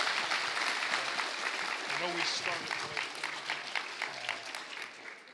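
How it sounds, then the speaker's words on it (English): A convention audience gives fursuiters a broad wash of applause, loud and sustained across the whole stretch, while someone speaks over it. "give your fursuiters a huge round of applause"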